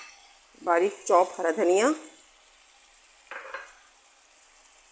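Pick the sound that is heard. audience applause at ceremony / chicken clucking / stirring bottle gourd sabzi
stirring bottle gourd sabzi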